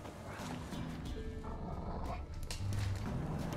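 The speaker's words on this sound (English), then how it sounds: "The dogs." Dogs in The Witcher 3 on PC, growling and barking in the game's woods, blending with a wall of game sound and music, with a voice talking over it.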